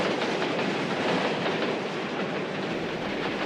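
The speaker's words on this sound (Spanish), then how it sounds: "unos trenes abarrotados atravesaban el territorio de la URSS" Crowded trains cross the Soviet Union in summer 1945, a steady loud rolling rumble with rhythmic wheel clatter and no voices.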